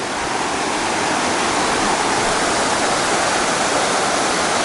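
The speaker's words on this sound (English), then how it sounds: "Walks you right by the river for a while. Some awesome rapids." River rapids on a forested Appalachian Trail section rush in a loud, steady broadband roar, close and unbroken, with no voices.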